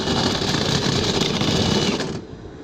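A steady whirring rotary brush scrubs inside a dryer vent elbow with a dense buzzing grind, loud and close, then winds down near the end.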